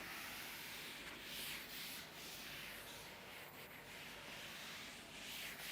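An eraser wipes writing off a board in a chemistry lesson, making a faint, continuous scrubbing rub with no pauses and no talk.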